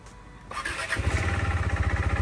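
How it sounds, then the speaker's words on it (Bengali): A KTM motorcycle starts in freezing cold: a brief cranking whir, then the engine catches and settles into a steady, pulsing idle close by. "একটা দুটো কেটিএম স্টার্ট হয়ে গেছে"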